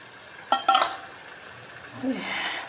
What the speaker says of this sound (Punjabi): ਆਪਾਂ ਇਹਨੂੰ ਤੜਕੇ ਨੂੰ ਭੁੰਨਣਾ ਹੈ ਬਹੁਤ ਵਧੀਆ ਤਰੀਕੇ ਦੇ ਨਾਲ ਭੁੰਨਣਾ ਹੈ